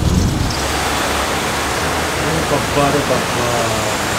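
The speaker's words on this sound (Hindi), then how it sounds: "एकदम खतरनाक वाली बारिश हो रही है" Heavy rain pours down so densely that it looks like fog, blurring a nearby building. A steady, loud, hissing roar continues evenly throughout, with no break.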